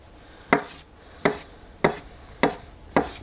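A kitchen knife chops sushi roll ingredients into strips on a cutting board, five evenly spaced, crisp thunks that sound close and alone.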